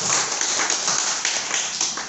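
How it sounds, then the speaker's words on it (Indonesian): An indoor audience gives brief, dense clapping in a continuous wash of even claps at steady loudness, with no talk over it. "Tepuk tangan dulu dong untuk Nagaya."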